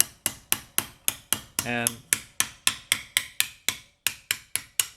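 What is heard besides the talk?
hammer striking a metal pierced spatula on its side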